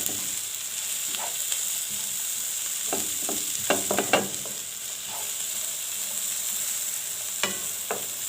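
Garlic sautés in a pan for a restaurant-style shrimp dish, a steady close sizzle and frying hiss with occasional clinks and scrapes of stirring.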